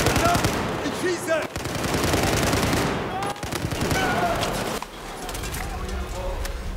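Dense automatic gunfire and rapid shots from Battlefield 4 rattle on almost continuously at close range, with a few sharp cracks and brief gaps. Voices speak over parts of the shooting.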